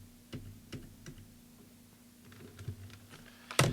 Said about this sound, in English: this keyboard's going to be put down for a little bit